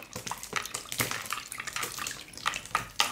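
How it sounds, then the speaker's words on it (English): Water poured from a jug or tap for hand washing at an outdoor Nigerian meal, with irregular splashing and trickling bursts close by throughout. "please let me have water to wash my hands"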